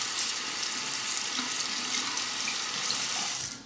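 Tap water runs steadily into a sink while a straight razor is rinsed after shaving, a continuous close hiss that tails off at the end.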